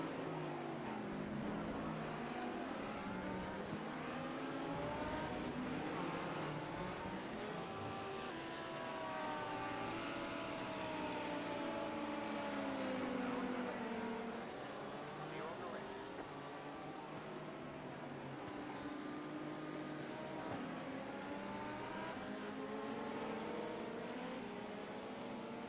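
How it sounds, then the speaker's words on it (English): LMP2 race cars in iRacing at Sebring pass by during a 12-hour endurance race, their engines rising and falling in pitch as they go past, sustained and moderately loud. "here come the LMP2s again"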